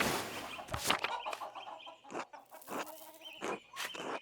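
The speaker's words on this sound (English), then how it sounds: "No, I mean the chickens." Chickens cluck in the medieval-village video game Pentiment, a run of close, separate bursts with short pauses between them.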